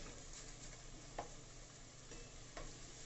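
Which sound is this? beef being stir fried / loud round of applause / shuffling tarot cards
beef being stir fried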